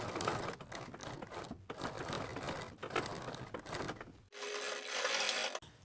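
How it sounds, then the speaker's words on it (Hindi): Domestic sewing machine stitching fabric strips onto a kurti sleeve, a steady close mechanical rattle running continuously with a brief pause before resuming. "जैसे सिलाई हमने इधर की तरफ लगाई है वैसे ही सिलाई इधर की तरफ भी लगाएंगे इनको अटैच करने के लिए।"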